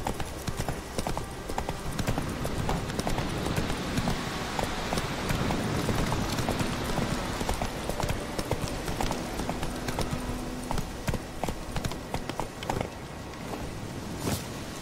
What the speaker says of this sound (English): there's a lot of horse riding in both games